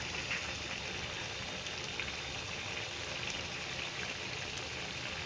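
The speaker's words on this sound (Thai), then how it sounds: "วันนี้ฝนตกจ้า" Steady, dense hiss of rain falling continuously, fairly close, with no voices and no change in intensity.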